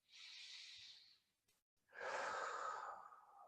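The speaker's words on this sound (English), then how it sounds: "So I'm breathing in through my nose, out through my mouth." Slow breathing drawn in through the nose and let out through the mouth during a beginner Pilates session, one soft airy inhale then a fuller, longer exhale, close and quiet with no talk.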